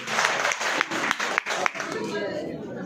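Audience clapping for Pawan Asawa at a live magnetic product demonstration, a burst of dense applause with sharp hand claps over about two seconds that fades out, with a voice speaking over it.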